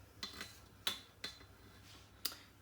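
A utensil stirring a béchamel and endive mixture in a pan gives a few sharp, separate clinks and scrapes against the metal, close up and spaced irregularly over quiet background.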